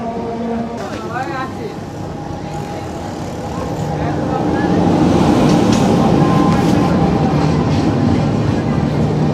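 A Katwa local train rumbles at a station platform, with steady loud rolling noise that swells midway, while people talk nearby.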